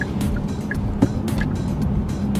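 A 2012 Hyundai Azera with a 293-horsepower 3.3-liter V6 accelerates hard to pass a camera truck, its steady engine drone heard from inside the cabin with road noise and a brief thump partway through.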